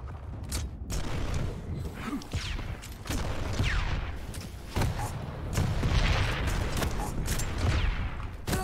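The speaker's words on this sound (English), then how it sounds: "Hit that guy coming up the stairs with two rockets, and he just kept on coming." Rocket launcher fire and explosions in the arena shooter Quake Champions, with repeated booming blasts and sharp bursts of gunfire over game ambience, all moderately loud.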